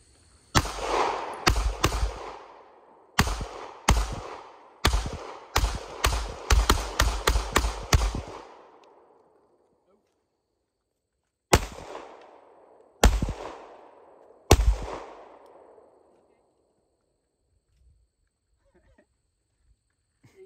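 A double barrel shotgun fires at outdoor target practice, with a rapid run of loud, sharp blasts close by, each ringing out with an echo. After a pause, three more spaced shots follow.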